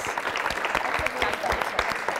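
Applause for a contestant on a school quiz show, a dense patter of hand claps from a small audience, steady and fairly close, with some talking mixed in.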